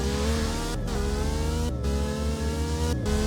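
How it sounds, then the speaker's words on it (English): A Lamborghini Revuelto V12 revs hard and steadily, a loud, high-pitched engine note holding over about three seconds, broken by two or three brief gear-change dips. "It doesn't sound like a V12, you know? It just sounds like a high-pitched engine."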